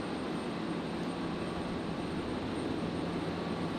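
Qantas Boeing 737 arriving from Hobart and touching down on runway 01 right at Brisbane Airport, a faint, distant, steady jet rumble with broad hiss, unbroken and without voices.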